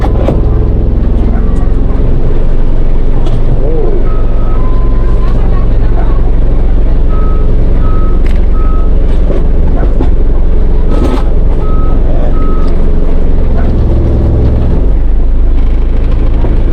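A vehicle backing out on a nature trip gives short, evenly spaced reversing beeps in several bursts over a loud, steady engine rumble, with voices at times.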